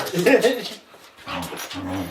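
A dog gives short, high whimpering whines and yips close by, in two bursts separated by a brief pause.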